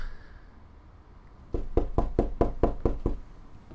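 Knocking on a door in the video game This is the Police 2: a quick series of about eight sharp, evenly spaced knocks, clear and close, with no talk.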